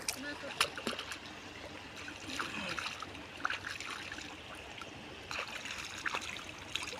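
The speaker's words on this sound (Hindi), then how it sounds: "देखिए पानी भी यहाँ बह रहा है" Canal water fed from a dam trickles and splashes steadily outdoors, with someone talking over the flow.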